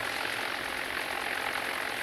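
Steady droning aircraft engine from a plane in a naval warfare video game, a continuous even hum filling the whole moment with no talk over it.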